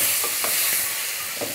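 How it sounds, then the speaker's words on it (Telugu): Green chillies, turmeric, curry leaves and tomato pieces fry in a pan, giving a steady close sizzle and hiss with a few soft stirring scrapes. "పచ్చిమిరపకాయలు కలుపు, తర్వాత పసుపు, కరివేపాకు, ఆ తర్వాత టమోటా ముక్కలు"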